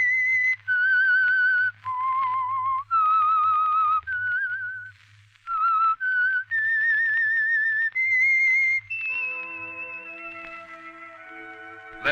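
A melodic whistled tune, the theme of the radio program The Whistler, clear and sustained, with a low hum beneath, ending as an orchestral chord swells in.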